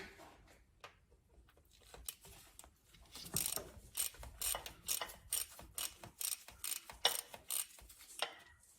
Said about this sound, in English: open the drain plug with a 10mm socket